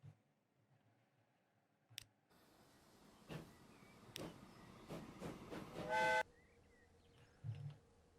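Rail traffic in the Transport Fever 2 simulation game: a soft rolling rumble with scattered clicks and a couple of sharp knocks, building to a louder burst with a short tonal horn-like toot, then settling into quiet.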